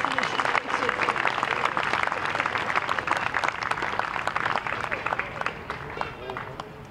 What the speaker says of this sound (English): how about a big round of applause to all of the people.